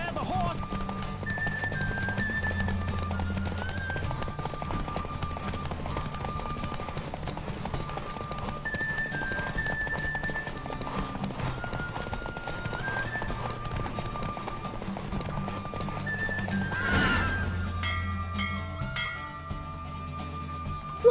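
Horse galloping and neighing during a race in the video game The Witcher 3, with continuous rhythmic hoofbeats over game music, a brief whinny near the end, and voices speaking briefly.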